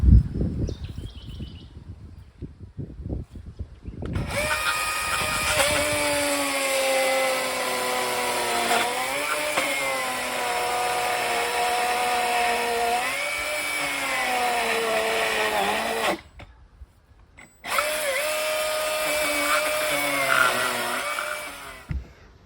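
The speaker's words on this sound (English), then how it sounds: "I'm going to try some plunge cuts with the chainsaw." A chainsaw revs up and runs at sustained high pitch, bogging and rising as it plunge-cuts into an old, hollow tree stump, briefly cutting off before resuming close by.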